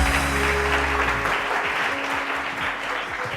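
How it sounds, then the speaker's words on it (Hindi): Studio audience applause on a morning TV talk show, loud dense clapping that rises over a fading music bed and continues steadily throughout. "माही के लिए तालियां।"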